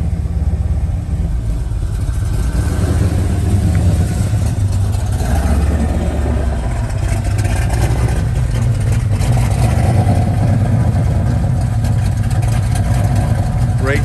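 Low, steady engine rumble from a 1972 Chevrolet Nova running continuously and fairly loud, a deep droning idle with slight fluctuations, and a voice faintly in the background.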